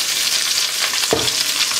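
Bell pepper and small artichokes sauté in a small pan where veal breast lardons have been cooking: a steady bright sizzle with one short clatter partway through, and no voices.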